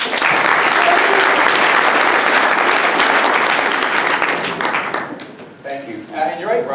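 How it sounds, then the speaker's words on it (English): An audience at a Calgary Signal Hill leadership debate gives a loud, sustained round of applause that fills most of the stretch, then thins out and fades near the end. "Would you like to give a round of applause?"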